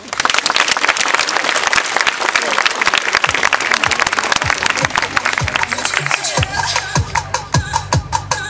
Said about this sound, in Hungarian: nagy tapsot nekik